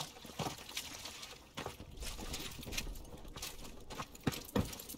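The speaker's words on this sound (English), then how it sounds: "It's water. River must be close." Faint trickling, splashing river water in a World War II video game set in Germany's Hurtgen Forest, with uneven gurgles and small clinks, quiet and somewhat distant, without any speech.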